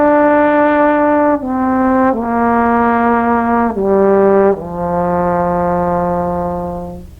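A trombone holds a series of sustained, steady tones, stepping down in pitch across four long notes, each rich and full, played solo without talking.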